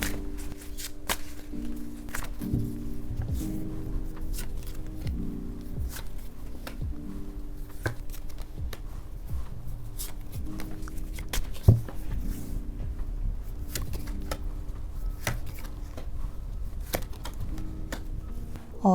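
Tarot cards are shuffled and drawn at close range, giving a soft, continuous riffling and slapping with a few sharper taps, all without speech.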